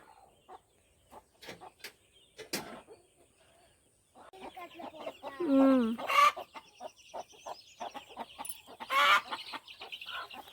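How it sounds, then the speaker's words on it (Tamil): Hens clucking and squawking close by, with a rooster among them, rising into loud agitated calls midway, with scattered rustling and knocks around them. "இந்த அந்த கோழி கத்துறங்காட்டி பாருங்க"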